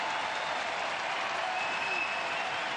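Stadium crowd at a 2021 USL Championship playoff soccer match between Tampa Bay Rowdies and Louisville City FC, applauding and cheering in a broad, distant, steady roar.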